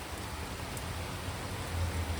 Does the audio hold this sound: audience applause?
no